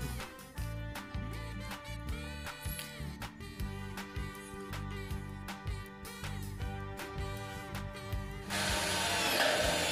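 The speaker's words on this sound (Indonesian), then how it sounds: "Langsung aja kita baut. kita baut satu aja dulu sementara." Power tool driving bolts into a hydroponic installation frame, a loud continuous whirring with repeated bursts and stops, steady and close, ending in a broader noisy rush.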